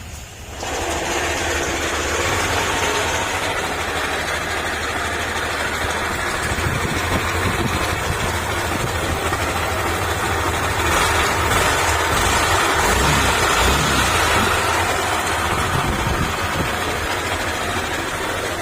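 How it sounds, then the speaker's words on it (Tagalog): A Yamaha Aerox 155 scooter engine idles steadily and loudly, with a rough, grinding internal mechanical rattle running underneath throughout. "tunog ng makina na parang may ginigiling sa loob ng makina"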